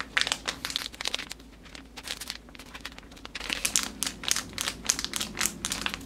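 The plastic wrapping on organic non-herbal pads from The Honey Pot is peeled open close up, giving a run of crisp crinkles and small tears that grow busier toward the end, with no voices.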